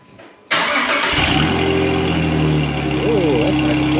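A Jeep Commander fitted with a new muffler cranks and fires to life after a quiet moment, then settles into a steady, smooth idle close by, with a voice briefly heard.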